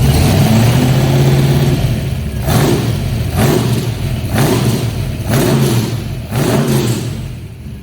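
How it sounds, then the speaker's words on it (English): A 1965 Shelby Cobra, freshly cold-started with its headers, is revved repeatedly, its engine rising and falling in several loud close bursts over a steady idle, with no talk. "See if we can't bring the RPMs up for you guys a little bit."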